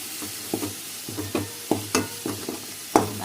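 Ginger garlic paste frying in oil for a country chicken masala curry, a steady sizzle broken by repeated stirring scrapes and clinks of a spoon against the pan, close and fairly loud with no talk.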